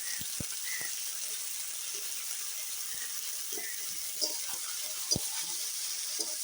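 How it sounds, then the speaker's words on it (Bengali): Cauliflower florets frying in a pan with turmeric and salt, a soft, steady, faint sizzle broken by occasional small pops and clicks, with no talking. "হলুদ লবণ দিয়ে একবারে ভেজে দিচ্ছি"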